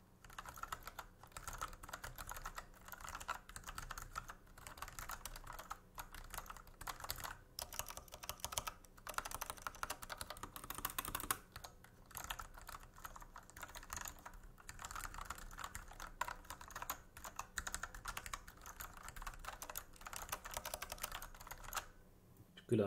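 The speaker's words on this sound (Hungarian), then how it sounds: "itt vannak közel a billentyűzethez, és mindjárt elkezdek valamit írni" Steady computer-keyboard typing recorded close up in a quiet room, a continuous run of soft clicks and keystrokes lasting the full stretch with no talk over it.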